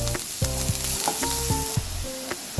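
Onions sautéing in a pan for a broad bean curry, a steady close sizzle with soft clinks and scrapes of stirring, no voices.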